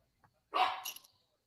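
A single short dog bark, close and fairly loud, standing alone in a quiet room during a casual podcast recording, with only faint background sound before and after.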